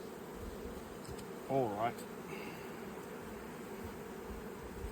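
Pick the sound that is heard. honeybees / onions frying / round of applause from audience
honeybees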